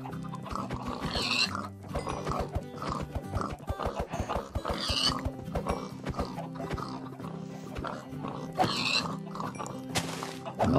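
Pigs grunt and oink repeatedly in Minecraft, mixed with a cow and with clattering hits as the farm animals are slaughtered with a sword, forming a busy, dense stretch of short animal calls and thumps throughout.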